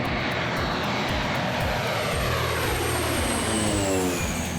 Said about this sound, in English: This 1990 Cessna Caravan is a slow ride, but it's got swagger.